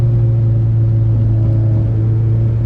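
A Nissan 240SX engine droning steadily while driving in a high gear, a loud, low, even rumble with constant tone and no revving changes.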